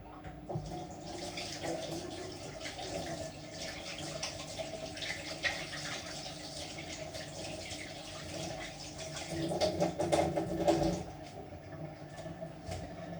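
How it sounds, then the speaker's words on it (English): Running tap water rinses sticky pastry dough off hands at a kitchen sink, a steady broadband splash for the whole stretch that swells louder around the middle as the hands move under the stream. "I'm going to rinse my hands quickly"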